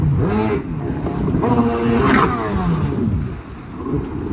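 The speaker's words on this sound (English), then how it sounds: "He's riding an XFS competition skate with a 1200cc Dacia engine." A 1200cc Dacia engine on a competition vehicle in a freestyle motorsport game revs loudly and close, rising and falling in pitch through several throttle blips before a brief dip and another surge.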